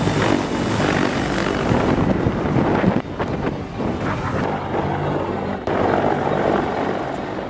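A CH-53 military helicopter on a Marine exercise gives a loud, steady rotor and turbine drone with gusts of wind noise. No voices are heard.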